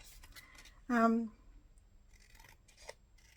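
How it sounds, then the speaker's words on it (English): Scissors make one short, crisp cut through scraps of paper card, close and clear, with faint rustling of the paper before and after it. "Just cut that straight."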